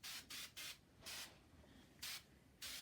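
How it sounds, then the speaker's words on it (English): Six short hissing sprays of glass cleaner from a trigger bottle onto shelves, each about a quarter second, spaced irregularly with quiet gaps between, close and fairly faint. "Now we're going to use this glass cleaner. And I'm just going to spray some on the shelves there."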